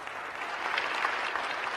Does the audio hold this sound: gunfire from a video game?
no